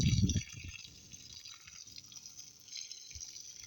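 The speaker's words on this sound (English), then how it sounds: "Go ahead and water this down one more time." Water poured onto the soil of a potted mango tree: a brief louder splash at the start, then soft trickling and dripping that continues quietly, with no talking.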